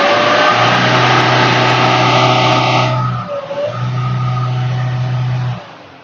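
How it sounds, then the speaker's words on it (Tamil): A car engine revving hard inside a Mahathi Cars showroom, loud and close, two sustained high-rpm holds separated by a brief dip, then dropping away at the end. "நான் ரேஸ் பண்றேன்"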